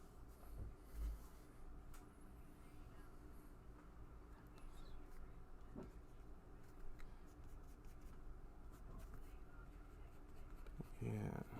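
A pencil scratches softly and steadily on paper while sketching, faint and close, with a few small taps and a rustle near the end, under a quiet room hum.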